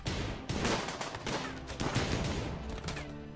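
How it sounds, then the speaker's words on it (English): Rapid bursts of gunfire from RimWorld video game combat, a dense crackling fusillade of overlapping shots that stays loud and continuous throughout. "Trying to shoot into the groups of them"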